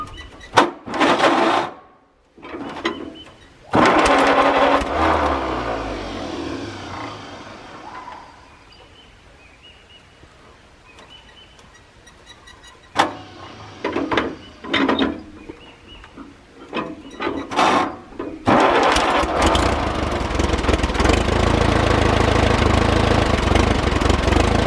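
A tractor engine on a 6-volt starter cranks in several loud, uneven bursts with pauses between them. It then catches and settles into a steady, close running rumble that lasts to the end.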